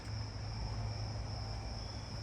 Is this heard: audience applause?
no